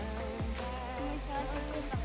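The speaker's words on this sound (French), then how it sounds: "regardez comme il pleut." Rain falls steadily beside a barn at a campground, a continuous pattering wash with scattered heavier drops, fairly loud and without voices.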